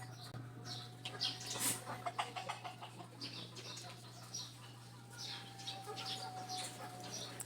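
Young gamefowl chickens on a breeding farm, near stag-sized birds, give soft scattered clucks and chirps in short bursts over a low steady electrical hum.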